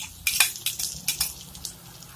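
A utensil clatters against a pan as meat, garlic and red onion are stirred for string beans guisado, in a quick run of bright metallic clinks and scrapes with short irregular gaps.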